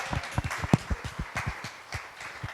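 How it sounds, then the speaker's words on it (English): A small audience at a tech customer success meetup in a new office gives a brief round of clapping, scattered individual claps audible rather than a full dense ovation. "So a round of applause for John"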